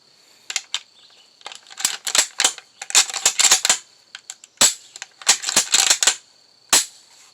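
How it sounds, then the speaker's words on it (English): A Mossberg Patriot 30-06 bolt-action rifle is taken down and reassembled at close range, giving bursts of sharp metallic clicks, snaps and clacks in irregular clusters with short quiet gaps between them. "that's how you take down and reassemble the Mossberg Patriot"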